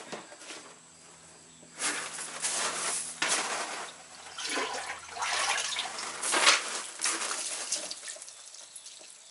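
Water poured slowly over a homemade gift project, coming in several uneven splashing bursts with pauses between them, close and moderately loud.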